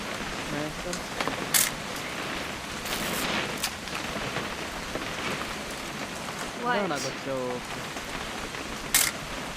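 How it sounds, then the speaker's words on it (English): Steady rain falls throughout a quiet scene in the video game What Remains of Edith Finch, a soft continuous patter with a few brighter drips and faint voices mixed in underneath. "It's gonna rain the whole weekend, isn't it?"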